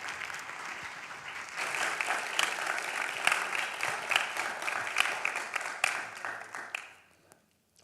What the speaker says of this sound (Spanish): vamos a darle un aplauso a ellos por su participación